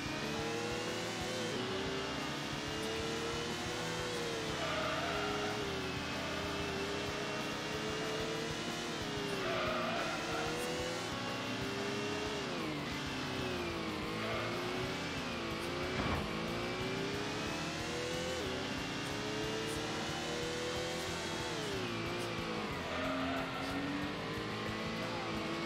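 A Nissan Skyline race car in the Gran Turismo racing game drones through a race, engine revving up and down in long sweeps as it shifts gears, continuous and steady throughout.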